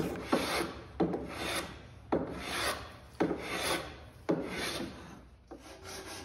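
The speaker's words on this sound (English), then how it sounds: "I began sanding the spar with some 80 grit sandcloth." Hand sanding an eight-sided wooden gaff spar across the grain with 80 grit sandcloth: five or six steady rasping strokes, each roughly a second long, close and fairly loud, with no talking.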